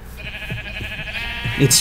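Sheep bleat a few times on a perpetual sheep farm in Minecraft, short nasal calls near and clear over a faint steady hum, with a sharper bleat at the end.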